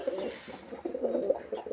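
Pigeons in a rooftop loft coo in low, throaty, overlapping calls at close range, with no talk.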